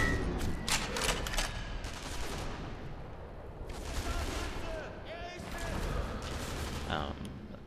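Gunfire from the Sniper Elite V2 shooter game rattles in repeated loud bursts and volleys, some rapid like a machine gun, over a constant rumbling battlefield din.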